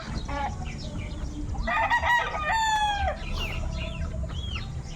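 Chickens cluck softly over a rooster's crow in the middle, against a steady outdoor background hum.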